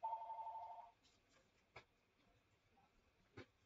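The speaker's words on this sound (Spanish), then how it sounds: "Permítanme un momento que está sonando mi teléfono." A telephone rings during an online geometry class held over Zoom, a single steady ring lasting under a second at the start, followed by near quiet with a few faint clicks.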